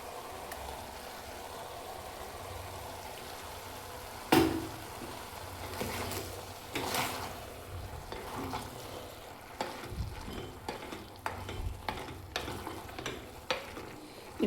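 Ground masala fries in a pan for bottle gourd curry. A soft continuous sizzle is broken by a sharp splash near the start, then repeated scraping and stirring knocks.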